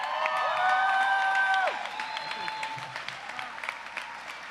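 Loud applause and cheering from an audience, with whoops and whistles early on, the clapping easing slightly but continuing to the end.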